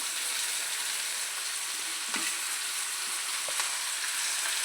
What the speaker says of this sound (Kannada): ಇದನ್ನು ಸರಿಯಾಗಿ ತಿರ್ಕೋಬೇಕು.